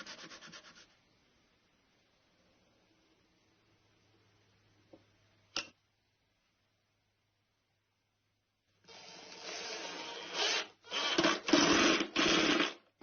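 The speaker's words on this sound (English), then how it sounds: "I'm going to rough up the back a little bit" Sandpaper roughing up the back of a wooden trunnion piece for a table: a short rasping burst at the start, a long quiet stretch, then a run of loud, close scrubbing strokes near the end.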